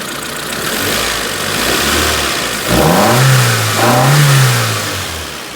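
A Proton Wira engine, fitted with new fuel injectors, runs nearby, idling with a low rumble, then revs twice in quick succession before settling back down.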